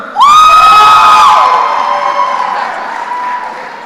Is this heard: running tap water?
no